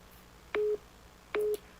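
Telephone busy tone after a caller hangs up: two short identical beeps spaced evenly apart, clear over a faint background hum.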